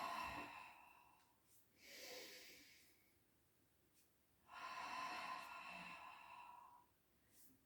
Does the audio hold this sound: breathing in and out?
yes